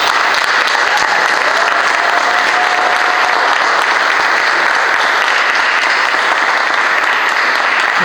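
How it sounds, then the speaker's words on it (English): Loud, dense applause from a crowd at an African cooking competition in Malawi, a steady roar of clapping sustained for the whole stretch without letting up. "Can I have a big round of applause?"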